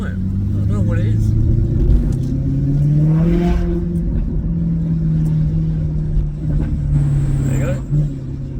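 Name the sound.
Maserati GranTurismo S exhaust burbling, sport cats and silencers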